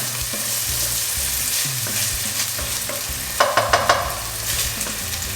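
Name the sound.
aromatics softening and sizzling in olive oil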